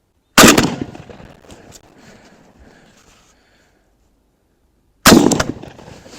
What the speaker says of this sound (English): Let's just shoot a few more and then we'll go down and check it out.